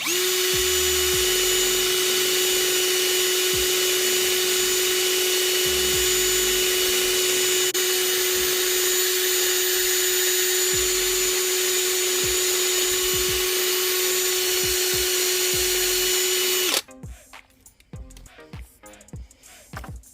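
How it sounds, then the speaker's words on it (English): A drill with a wire brush wheel whines steadily at high speed for about seventeen seconds, then cuts off abruptly, leaving faint clicks and handling noises. "we're going to let the drill and the brush do the work"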